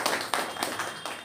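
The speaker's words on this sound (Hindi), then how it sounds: "तो एक बार भाई जी के लिए ताली बजाएंगे।" Audience clapping at a Shivratri program, a few distinct sharp claps in an uneven rhythm, moderately loud in a hall, with no talk over it.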